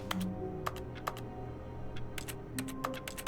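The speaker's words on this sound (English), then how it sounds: "Oh, keyboard sound" Scattered keyboard keystrokes tap in uneven clusters over a quiet hum in an office scene of The Stanley Parable, each click crisp and close.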